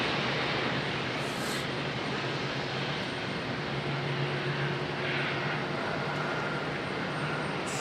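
An Alaska Airlines airplane at Raleigh-Durham International Airport makes a continuous broad jet roar. The sound holds steady and fairly loud from a moderate distance the whole time, with no talking.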